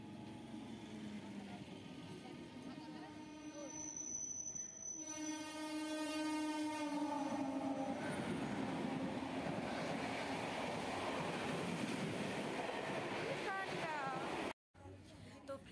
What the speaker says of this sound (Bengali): ট্রেনটা তো একদম আস্তে আস্তে আসতেছে হাওড়া